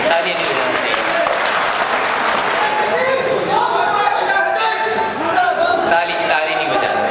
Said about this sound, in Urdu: تالی نہیں بجانا چاہیے